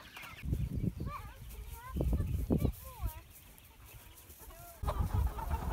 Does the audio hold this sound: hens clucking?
yes